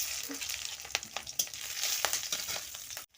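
Green chillies and nigella seeds fry in hot oil in a wok, a steady close sizzle punctuated by sharp pops and a few scraping stirs before the sound cuts off near the end.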